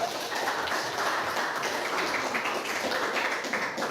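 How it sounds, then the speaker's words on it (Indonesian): A classroom full of people applauding together, a dense, steady patter of many hands clapping at moderate distance, lasting several seconds without a break. "Tepuk tangan kita semua dulu"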